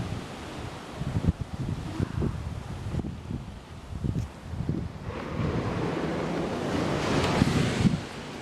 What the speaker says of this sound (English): at night I can just hear the waves, which is really, really nice